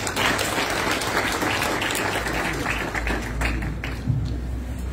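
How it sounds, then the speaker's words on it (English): A crowd at a UPND party manifesto launch claps steadily and densely, with dense, even applause filling the space throughout. "Ladies and gentlemen, another round of applause"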